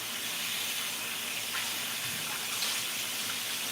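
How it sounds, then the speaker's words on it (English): Tap water runs steadily over a jar lid being rinsed at a kitchen sink while making homemade hot sauce, a continuous close hiss of flowing water with slight splashing changes as the lid moves. "Rinse my lid off."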